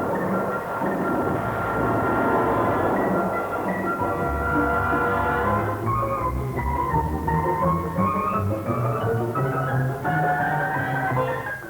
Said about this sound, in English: Allied fighters soon shot the German planes out of the sky.